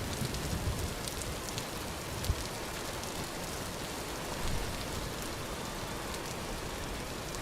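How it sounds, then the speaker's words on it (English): Steady, dense rainfall in the survival game Vintage Story, a continuous broadband hiss of drops on surfaces holding even and fairly loud throughout, with no voices over it. "The rain definitely picked up."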